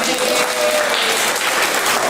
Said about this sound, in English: How about a round of applause if you are enjoying this annual meeting?